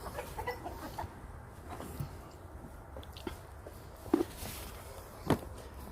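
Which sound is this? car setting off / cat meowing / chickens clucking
chickens clucking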